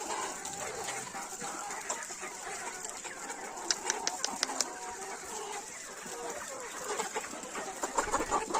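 Free-range chickens in a flock of about 500 cluck and chatter in a steady, busy background, with a cluster of sharper clucks partway through and a faint dog nearby.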